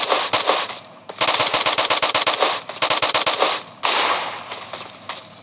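Rapid automatic gunfire in PUBG Mobile on the Miramar desert map: loud, close bursts of sharp shots in quick rhythmic runs, separated by brief pauses, with no voices.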